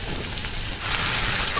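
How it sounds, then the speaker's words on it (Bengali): Diced potatoes and chopped bottle gourd sizzle in hot oil in a pan, a steady close crackling hiss that carries on without pause. "দেখুন আলুটা প্রায় ভাজা হয়ে এসেছে কিছুটা। এখন আমি লাউগুলো দিয়ে দেবো।"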